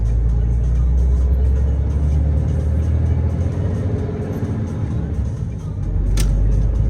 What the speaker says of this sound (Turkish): Ya, araba değil de tır geliyordu işte.